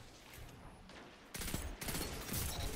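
Team gunfire in Destiny's Iron Banner mode: a steady crackle of distant shots that jumps into a dense, louder burst of overlapping fire partway through, with no talking.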